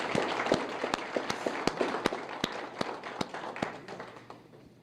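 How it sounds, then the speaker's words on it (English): Crisp, scattered hand claps from a modest audience at a university room dedication and ribbon-cutting ceremony, distinct individual claps that gradually thin out and fade over several seconds. "let's give our regents and everyone I've just called out a round of applause"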